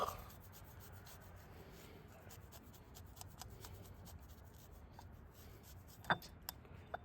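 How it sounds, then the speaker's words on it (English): Garlic cloves rubbed quickly against a grater into a bowl, a faint, close, rapid scraping rasp that continues without pause, ending with a couple of light taps. "we're going to grate them into here"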